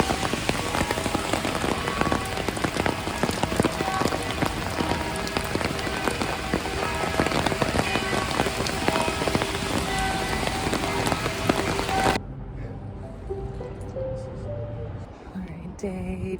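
Heavy rain pours down steadily on a London street, a dense, loud hiss that continues without pause, then drops abruptly to a quieter, sparser patter near the end.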